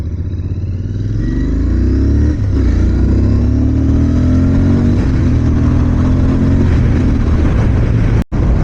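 A 2025 Royal Enfield Interceptor 650 motorcycle accelerating hard on the road, loud close engine roar rising in pitch through gear changes with brief dips between shifts, then a sudden cut at the end.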